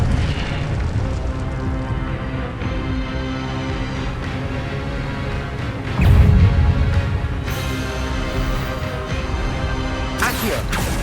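Spell effects from Hogwarts Legacy rumble and boom over game music, including the Incendio fire spell. A heavy burst hits midway, then sharper crackling blasts follow near the end.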